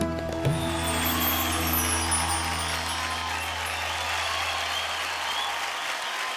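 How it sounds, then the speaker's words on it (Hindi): Studio audience on the TV dance show Dance India Dance Super Moms applauds in a dense, sustained wash of clapping, with a musical tone fading out beneath it over the first seconds. "जोरदार ताली हो जाए"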